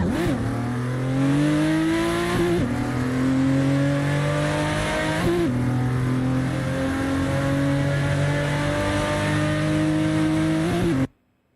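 A race car in the Assetto Corsa driving game, its engine revving loud and close through repeated rising pulls, each climb cut by a quick shift before building again, ending abruptly.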